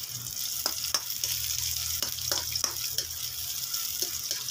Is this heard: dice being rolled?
no